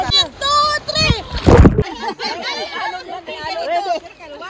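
Children dive into water during a Sunday swim. One loud splash lands in the middle, surrounded by excited kids' chatter and shouting, close and lively.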